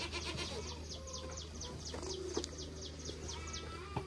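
Goats in a rain-soaked pen on a rural Vietnamese farm give a faint bleat or two, one goat close to giving birth, over a quiet background of insects and distant birds.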